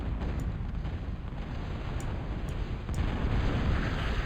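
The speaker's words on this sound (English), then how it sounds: "Plenty of shelling." Artillery shelling in a real-time strategy video game sounds as a continuous rumbling barrage of deep booms and blasts, overlapping thuds with a few sharper cracks, steady and fairly loud.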